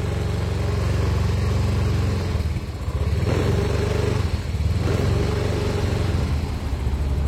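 A Yamaha Mio M3 scooter engine with a vibration fault idles steadily and is then revved in a few rough bursts, loud and close, with a rattling buzz throughout.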